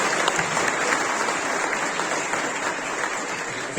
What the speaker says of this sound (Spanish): le damos un fuerte aplauso por su presencia